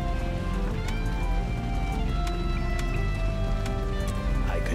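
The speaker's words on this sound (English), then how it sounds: "It is raining." Rain falling in the video game Road 96, a steady wash of patter under a low rumbling drone and tonal background music, continuous and moderately loud.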